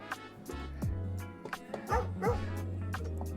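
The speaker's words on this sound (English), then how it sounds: "Bark, bark." A dog yips and barks in short, high bursts, several in a row, close by over a low steady hum.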